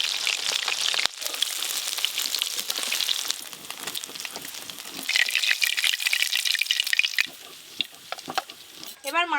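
Fatty fish belly pieces from catla frying in hot oil in a village-style kitchen, a steady crackling sizzle with stirring rattles; a voice speaks partway through and the frying breaks off near the end.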